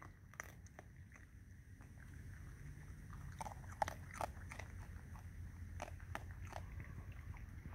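Raccoons eat at night outdoors, giving faint, scattered crunching and chewing bites with soft rustles over a quiet background.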